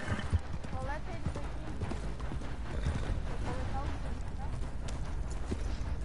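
Hooves of a horse in the Red Dead Redemption video game clip-clop at a steady gait beneath ongoing conversation and dense game background sound.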